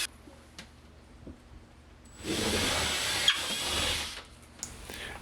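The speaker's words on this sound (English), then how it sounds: "So here I'm drilling holes and countersinking them" Drilling and countersinking holes in a wall of a front closet to enlarge them for anchors: one loud, steady, whirring burst of about two seconds follows quiet room tone and then stops abruptly.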